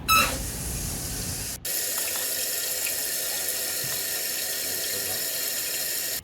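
Water rushes into a toilet tank after the supply is turned back on following a plumbing replacement, a steady close hiss that breaks off briefly and then resumes.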